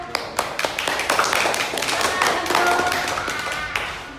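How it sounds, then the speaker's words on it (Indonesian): A primary school class clapping for group 1 after a poetry performance, a scattered burst of sharp claps and taps from many small hands that stays fairly steady for a few seconds. "Kita berikan tepuk tangan untuk kelompok 1"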